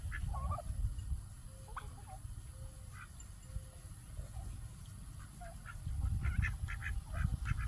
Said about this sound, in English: They're runner ducks.